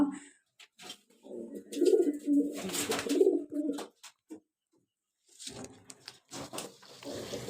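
Pigeons squabble at a water spot in the sun, giving bursts of throaty cooing and rustling scuffles close by, broken by brief quiet gaps.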